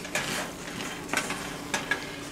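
A spoon stirs lentils and rice with added water in a pot of mujaddara over low heat, making steady wet scraping strokes with a few brighter clinks of the spoon against the pot.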